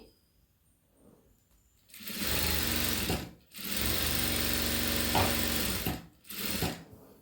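A sewing machine stitches a dotted and cross-pattern border in bursts, a loud rapid mechanical whirr running several seconds at a time, stopping briefly between runs after a quiet start.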